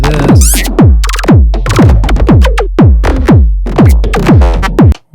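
Glitchy synth effect created in Ableton Intro using Drift: loud, repeated punchy bass hits with sweeping downward-pitched tones and crackling high fragments in a steady chopped rhythm, cutting off abruptly at the end, no speech.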